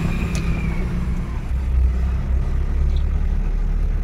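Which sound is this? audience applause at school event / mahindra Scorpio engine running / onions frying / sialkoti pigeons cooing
mahindra Scorpio engine running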